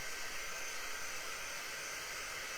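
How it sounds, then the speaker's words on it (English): A quick dry heat tool running on high, like a hairdryer, blows over chalk-stencil ink to dry it, a steady, close, continuous airy whoosh with no talking. "We're going to take our quick dry tool on high. You can do this with a hairdryer as well."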